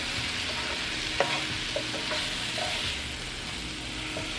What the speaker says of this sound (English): Oh, sauteed mushrooms and onions,